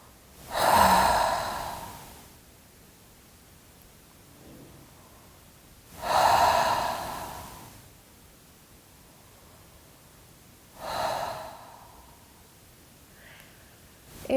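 Three slow, deep breaths taken while pressing the jaw joint muscle, each a loud close airy exhale a few seconds long, separated by quiet pauses.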